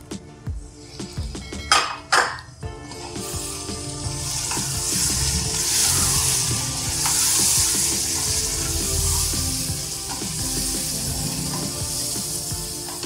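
Spices and tomato puree fry in a pan for egg biryani. A few clinks at the start give way to a steady, loud sizzle that lasts to the end, with light stirring underneath.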